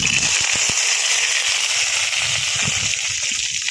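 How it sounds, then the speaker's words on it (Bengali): Dried red chillies hitting hot oil for a fish curry, a loud continuous sizzle and spitting crackle close up, with a few sharper pops near the start and no talk. "দিচ্ছি শুকনো লঙ্কা"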